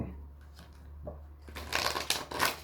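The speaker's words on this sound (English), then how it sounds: "too many cards fell out then" Tarot cards being shuffled by hand, a quiet rustle at first building into louder riffling bursts in the final second, heard up close with a low steady hum beneath.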